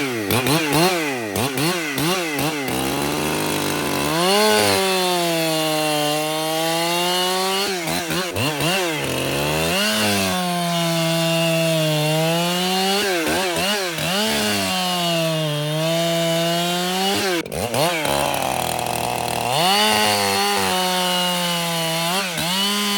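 An ECHO chainsaw cuts into a standing dead pine tree, its engine droning loud and close, rising and falling in pitch as it bogs into the wood and revs back up over about twenty seconds.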